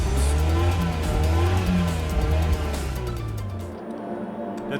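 Race cars in Gran Turismo Sport roar off the start, engines loud and revving with tire squeal over a dense, continuous motor drone that thins near the end; no talking.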